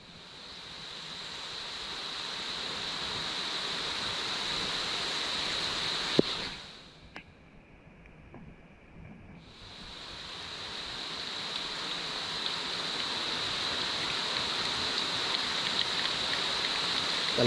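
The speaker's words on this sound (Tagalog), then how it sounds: "Lakas ng ulan." Heavy rain pours steadily in a dense, hissing wash with a brief muffled dip midway, loud and continuous, with no voices.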